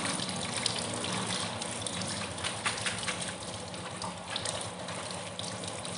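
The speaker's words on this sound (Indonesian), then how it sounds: "ini daging buahnya kita cuci dulu ya. Kita cuci sampai bersih" Jackfruit flesh being washed under running water, a steady gushing, splashing stream close by with no pauses, heard alone without talk.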